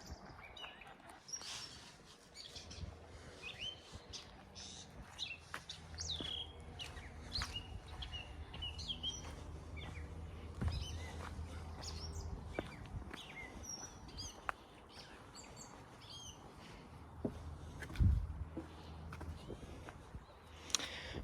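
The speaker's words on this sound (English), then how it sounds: "You can really hear all the birds chirping in here." Birds chirp and call on a wooded trail near Ottawa, with many short, scattered tweets over a quiet outdoor background, some near and some farther off.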